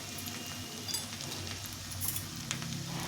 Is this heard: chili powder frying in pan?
yes